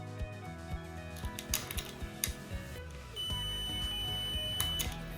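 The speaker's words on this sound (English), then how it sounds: "When we connect the two terminals, a beep sounds." A multimeter's continuity beep sounds while a generator's coil ends are probed; a steady high tone begins about two-thirds through and holds near the end, over clicking and clattering handling noise.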